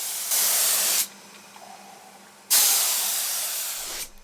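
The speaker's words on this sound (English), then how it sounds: "to make it easy I just put it in my spray gun" A spray gun applies wood stain to a Victorian sideboard in two long, loud bursts of steady hissing spray, separated by a short quiet pause, with no talk.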